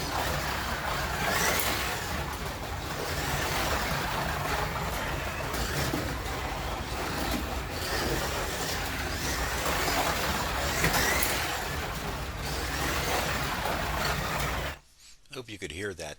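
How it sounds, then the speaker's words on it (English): A small model car on hard, very old plastic tyres runs around a painted track, giving a loud, continuous grinding hum that lasts about fifteen seconds before cutting off abruptly into a brief quieter patch. "That hard plastic sounds terrible going around the track"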